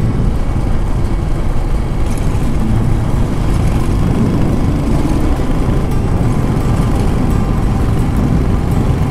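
Royal Enfield Hunter 350 motorcycle ridden along a dry forest road, its engine a loud, steady low rumble running throughout without a break.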